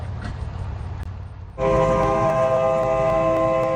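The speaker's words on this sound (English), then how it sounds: "There's a train on the track" A train on the tracks in the Stockyards district sounds a loud sustained horn that cuts in abruptly partway through, following a low rumbling of rolling cars.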